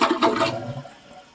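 A toilet in a mobile home flushes with a brief gush of rushing water that drains off quickly into a faint trickle.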